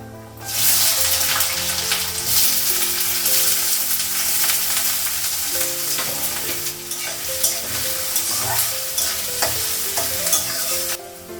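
Cumin, nigella seeds, green chilli, onion and garlic frying in hot oil for fried rice, a loud steady sizzle with scraping stirs throughout, no voices.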